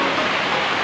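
Steady rain falls in an even, dense hiss, close and continuous, with no other sounds over it.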